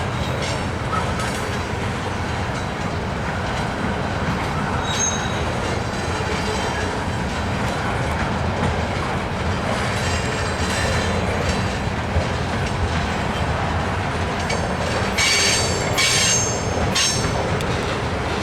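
A CSX freight train of ethanol loads, led by a Tier 4 SD70 locomotive, passes on the main line near Shelby: a loud, continuous rumble of wagons with squealing wheels and clattering rail joints, and no talk.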